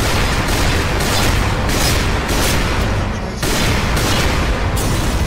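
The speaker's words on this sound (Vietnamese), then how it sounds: "các bạn có thấy là súng bắn nó được bắn tầm xa được" Long-range guns in a Skibidi Toilet video game fire in a dense, continuous barrage of loud booming shots that fill the clip, with a brief dip before the firing resumes.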